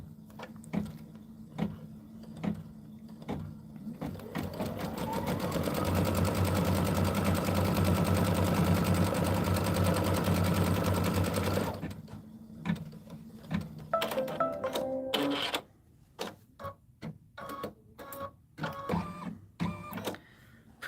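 An embroidery machine stitches a placement line on quilting fabric for a Lori Holt Home Town beehive block, giving a steady, close mechanical whir for several seconds before stopping into scattered clicks and light handling knocks, with no talking.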